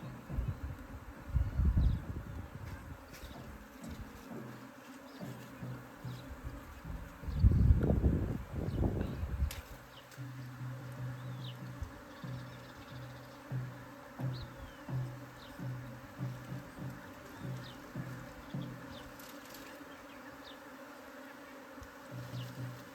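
Bees buzz steadily around a hive outdoors, a continuous insect drone with louder swells as individuals pass close by, over faint rustling.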